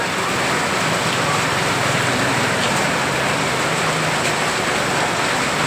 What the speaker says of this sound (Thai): ถนนหนทางก็น้ำท่วมแล้วฝนตกแรงขนาดนี้นะ